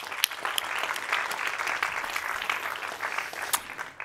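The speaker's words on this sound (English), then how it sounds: "So a big applause also for our partners." An audience applauds at a climate innovation awards ceremony, with a steady patter of clapping from a large crowd for about four seconds at moderate volume and no talk over it.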